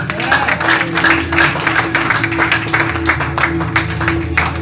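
Church congregation applauding and cheering for the Lord during a service, a steady loud wash of many hands with a sustained tone beneath.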